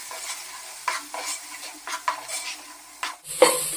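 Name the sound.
sautéing chili powder with tomato in oil for fish curry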